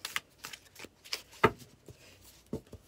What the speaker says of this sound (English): Shuffles well in the hand though